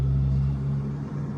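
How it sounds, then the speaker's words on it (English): Cars drive past outside a house, heard from indoors as a steady, fairly loud low rumble of traffic that swells and eases slightly. "you guys could totally hear the cars going by"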